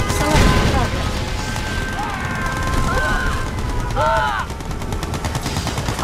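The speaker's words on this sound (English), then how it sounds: "Warning, nuclear missile launched." Explosions and gunfire from a Yuri's Revenge real-time strategy battle during a nuclear missile strike, with booming impacts and rattling shots throughout, overlaid by short electronic unit-response tones.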